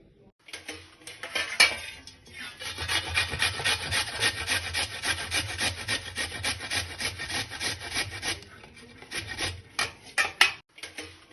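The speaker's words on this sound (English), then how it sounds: "I have taken a fresh ginger here, and I'm going to grate it first" Fresh ginger is rubbed against a grater in a fast, steady run of close rasping strokes, pausing briefly near the start and again near the end.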